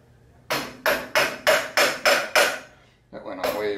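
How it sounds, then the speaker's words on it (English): Seven firm, evenly spaced blows from a dead blow hammer tapping a part into place on a drill-milling machine, close and dull-edged, followed by someone speaking briefly. "Give it a couple taps with the dead blow hammer."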